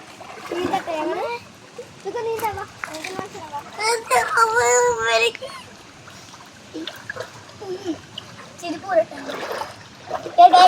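Children jump into a stream, their splashes breaking out between lively chatter and shouts, with the voices dominating and the water bursts coming in irregular clusters.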